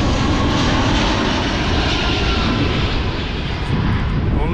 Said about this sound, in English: Not any old residential streets under flight paths.